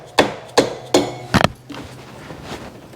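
Four sharp hammer smacks on a seized engine part of a Honda ST70 barn-find motorcycle, close and loud, the last two in a quick double, followed by quieter clinking and rustling.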